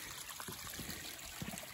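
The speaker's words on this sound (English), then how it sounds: "as you can see, the water's flowing nicely" Dam overflow water trickles in a small cut stream, a faint steady dribble with soft splashes, heard alone.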